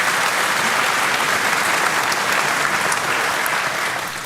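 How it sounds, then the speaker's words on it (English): An audience at a Reform UK local election tour event in Basingstoke claps in a dense, sustained burst of applause, loud and even for several seconds before easing slightly at the end. "Round of applause, please, ladies and gentlemen."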